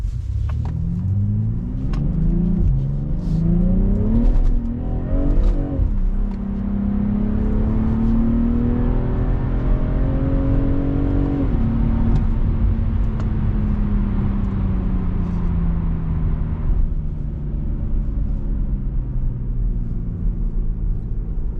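A BMW M340i's engine and exhaust during a night drive, loud and close from inside, climbing through several rising revs with gear shifts before settling into a long, steady cruising drone.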